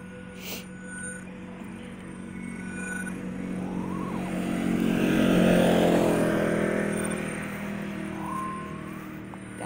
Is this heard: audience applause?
no